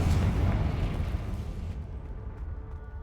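A Confringo blasting spell detonates in the Hogwarts Legacy video game, a loud sustained rumbling blast that gradually fades, with no voices over it.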